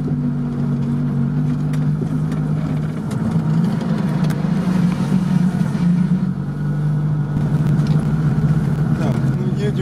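An off-road car with a failed starter, a ZAZ, Toyota, Niva or UAZ, drives through a real swamp, its engine chugging with a steady low hum that surges as it revs, while people talk over it.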